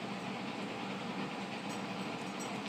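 HO scale Kato Union Pacific SD38 model diesel locomotive with a sound decoder starting up, giving a steady, dense engine rumble and hiss that holds even throughout, close and without talk.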